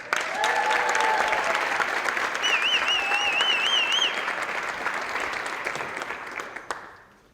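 Crowd applause for high school athletes signing with colleges, heard at a football playoff game at Lake Travis High School; sustained clapping with whistles and cheers over an announcer, tapering off at the end.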